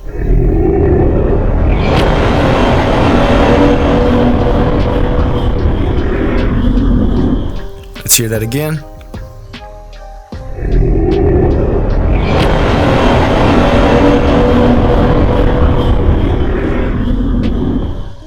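A dinosaur call from Roblox Dinosaur Simulator rumbles out as two long, loud, harsh bursts, with a short spoken comment in the quiet gap between them.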